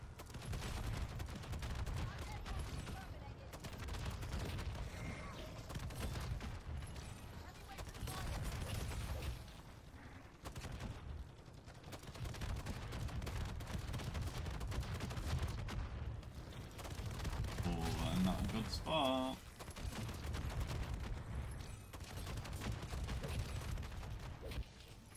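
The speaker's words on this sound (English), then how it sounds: "It is the shotgun" Shotgun fire in a video game, carried by a steady, loud stream of gunfire and booming blasts that runs through the whole stretch, with another sound briefly rising over it.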